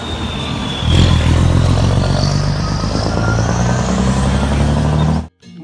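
A toy long tanker truck plays a recorded engine rumble, a steady low droning growl with a brief rising rev near the start, running for about five seconds before stopping suddenly.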